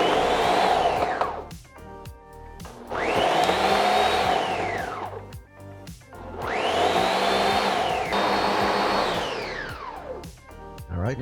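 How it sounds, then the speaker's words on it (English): A Ninja Foodi Power Blender on its bowl setting blends mango and orange juice in four loud, pulsing bursts, its whirring motor climbing and falling in pitch with short pauses between, no voices. "if you happen to have a Ninja Foodi Power Blender, you would just want to put this on your bowl setting"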